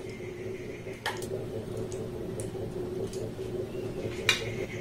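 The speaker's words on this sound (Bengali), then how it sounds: "বড় চামচে 2 চামচ দিয়ে দেবো পাকা তালের পাল্প।" Ripe palm fruit pulp, for a sweet palm kheer pitha, goes from a large spoon into a bowl with a few soft, wet squishes and brief plops over a steady low background hum.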